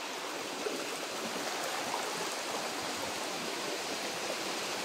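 Heavy rain with rushing water on a mountainside, a steady dense hiss and roar close by, loud and unbroken from start to finish with no voices.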